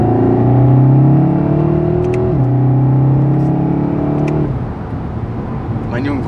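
A Seat Leon Cupra R ST engine revs and drops as the driver shifts gears, with a loud, droning in-cabin tone that climbs and falls through two shifts before settling to a lower hum.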